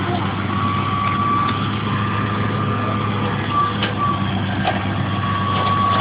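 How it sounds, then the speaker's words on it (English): A big truck's engine rumbles steadily at a construction site, with faint, intermittent reversing beeps in the mix. A child's and an adult's voices can be heard nearby. "Look at that big truck."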